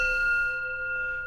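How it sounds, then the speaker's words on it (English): A bell struck during a Zen meditation service, its steady ringing tone sustaining and slowly fading throughout, heard alone without voices. "Hearing the sound of the bell, all thinking is cut off."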